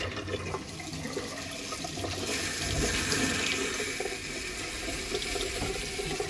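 Hot water runs from a faucet during plumbing tests, a steady close rush of flow that swells slightly midway and keeps going without pause.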